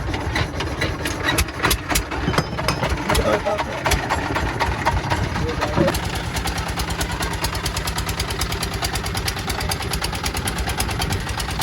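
Tourist boat engine running as the vessel pulls away from the dock at Marunda tourist beach on a clear morning, a steady throbbing motor with a rhythmic chug throughout, with voices over it.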